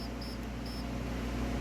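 Faint, high electronic beeps from a new build's speed controller during throttle calibration, two brief tones over a steady hiss of background noise with no talking.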